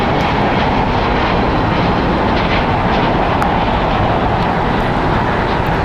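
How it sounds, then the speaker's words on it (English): A United Airlines Boeing 737 MAX 9 departs LAX, bound for Houston, and its jet engines produce a continuous, loud broadband roar that holds steady for several seconds without speech. "Departing is United Airlines Flight 1416 going to Houston. It's a Boeing 737 MAX 9."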